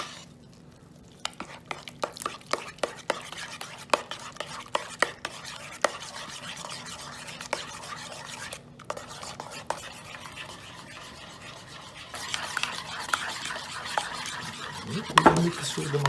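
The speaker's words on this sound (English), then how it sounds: "Okay, we mix a little bit with a spoon and now like that." Fresh ricotta stirred with a spoon in a bowl, a run of quick clicking scrapes and taps close by, giving way to a softer, denser rustle of mixing toward the end.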